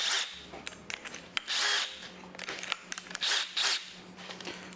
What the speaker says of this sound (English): We're gonna drill that.